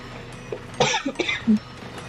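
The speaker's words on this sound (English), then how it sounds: "Sorry for the coughing." A couple of short, harsh coughs close by, followed by a brief throat-clearing sound, with quiet pauses in between.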